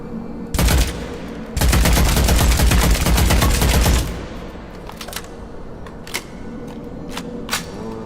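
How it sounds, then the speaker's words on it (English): A shotgun in the video game Witchfire fires in loud, close bursts: a short blast, then a longer rapid volley lasting a few seconds, followed by quieter scattered clicks and thuds. "Shotgun."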